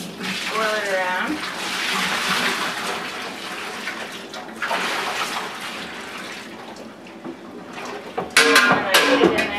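Soapy water with bleach sloshes and swirls inside a milk bucket, a close, splashing wash that rises and falls, while a person talks over parts of it.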